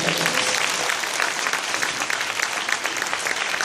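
A church revival congregation applauds to welcome Kim Moo-sung, a loud, dense, continuous burst of many hands clapping that fills a large hall at an even level throughout.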